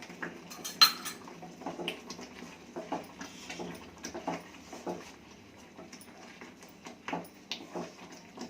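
A spoon stirs kesari food colour into water in a glass, producing repeated light clinks and taps of metal against the glass in an irregular rhythm, close up.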